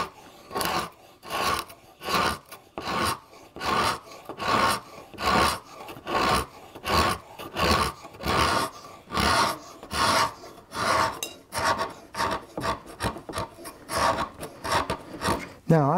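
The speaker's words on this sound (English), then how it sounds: "There's a lot of little handwork with this scraper blade." A hand scraper blade works back and forth across wood while cutting V joints, giving a steady run of short, rasping strokes about twice a second, close and fairly loud, with no talking.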